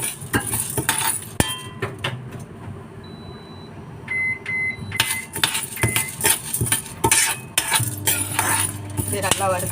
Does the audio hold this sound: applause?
no